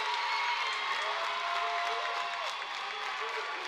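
A home crowd at a college match between Limestone and Presbyterian breaks into steady applause and cheering, a dense, sustained roar that carries through the whole moment.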